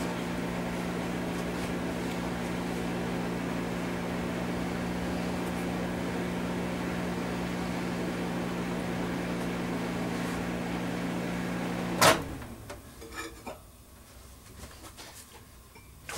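A microwave heating soft plastic fishing bait hums steadily with a low, even drone for about twelve seconds, then stops abruptly with a click, leaving quiet rustling afterward.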